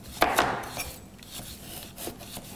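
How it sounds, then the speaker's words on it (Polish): Knife dicing an onion on a wooden board, a few quick crisp chopping strokes close by at an uneven pace, fairly quiet with no talking. "Cebulę kroję w drobną kostkę."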